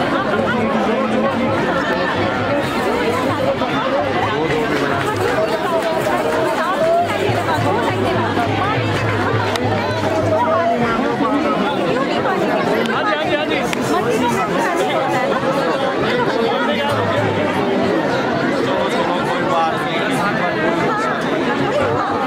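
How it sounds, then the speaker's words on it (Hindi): A dense crowd packs the Basant Panchami Raghunath rath yatra festival in Kullu, its steady, close hubbub of many overlapping voices continuing without pause throughout. "भीड़ बहुत ज़्यादा है, जगह नहीं है"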